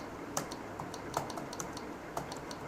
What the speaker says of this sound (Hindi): मैं आपको ऐसे अपनी टाइपिंग यहाँ पे दिखा रहा हूँ